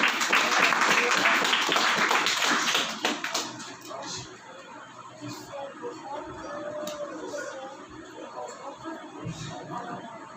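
A church congregation applauds loudly for about three seconds, then the clapping fades out into murmuring and background voices.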